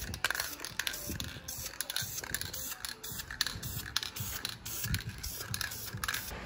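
Aerosol spray paint hisses onto brake calipers in short bursts, a faint, airy spray sound that repeats with brief pauses.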